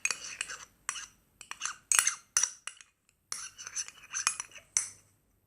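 A utensil stirs and scrapes slime around a bowl, a fairly close run of clinking, sticky squelching bursts separated by short pauses, with no speech.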